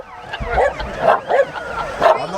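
A dog barking close by at a tractor show, Biddenden Tractorfest 2022, in a quick run of short, high yips and whimpering barks.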